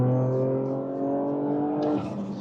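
A Toyota Yaris GR engine revs up strongly as it accelerates, the pitch climbing steadily before a gear change, heard from inside the cabin.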